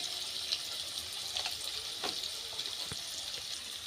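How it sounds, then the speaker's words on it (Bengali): Potatoes frying in a covered pan with salt, a soft steady sizzle and hiss with faint scattered crackles and occasional light clinks, fairly quiet and without talk. "আমি ঢাকা দিয়ে এইভাবে ভেজে নিলাম আলুগুলো"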